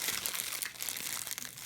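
Plastic bag with an old humbucker pickup magnet inside, crinkling and crunching up close in a steady run of rustles for under two seconds.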